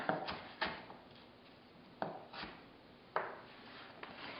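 A kitchen knife chops vegetables on a cutting board in a handful of sharp, irregularly spaced strikes. The cuts are close and fairly clear, with no talking.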